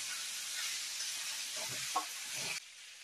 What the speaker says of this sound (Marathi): सगळ्या केळ्याच्या फोडीला तेल लागेल इतपत आपण भाजी परतून घेऊया